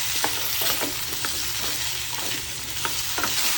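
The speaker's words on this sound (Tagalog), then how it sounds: "Una iprito muna ng bahagya ang patatas at carrots." Potato and carrot pieces frying lightly in hot oil in a pan, a steady close sizzle with scattered crackles and stirring scrapes throughout.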